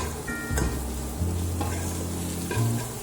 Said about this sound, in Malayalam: നമ്മൾ ലേശം ഇട്ടിട്ട് ഇളക്കുക.